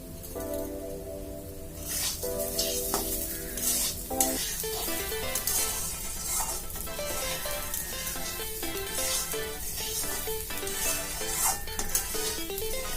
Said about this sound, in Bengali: চিনিটা দিয়ে ভালো করে নাড়াচাড়া করে নেবেন